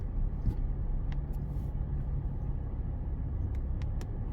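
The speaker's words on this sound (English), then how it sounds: "Houston traffic, man." Steady city street traffic in Houston's Montrose area, a continuous low rumble of cars heard from inside a moving vehicle, with a few faint brief clicks and squeaks over the drone.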